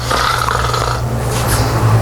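A sleeping person snores with mouth open, a deep rumbling breath that rattles steadily close by, with faint background noise.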